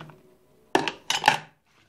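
Fresh broad beans drop into a cooking pot in two quick clattering bursts, sharp and close against an otherwise quiet kitchen.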